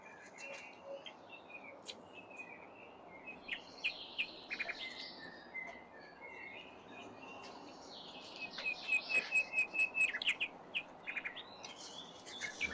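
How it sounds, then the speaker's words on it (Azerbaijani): Birds chirp and tweet outdoors in short, scattered bursts, fairly faint and set back from the microphone, with a denser run of calls near the end over a low background hum. "Quşların da səsi ləzzət edir."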